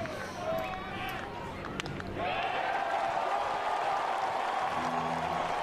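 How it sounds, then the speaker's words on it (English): Stadium crowd at an NCAA tournament regional final college baseball game, Kentucky versus Indiana, roaring in a dense, sustained wash of cheering that swells after a couple of seconds, with a commentator talking over it. "The crowd is going nuts here in this first inning"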